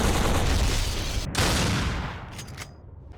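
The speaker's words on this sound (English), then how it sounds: "The gunfire sounds were already very realistic, including when reloading the weapon." Rapid bursts of video game gunfire crackle close and loud, with a brief gap, then a few sharper shots as the barrage tails off.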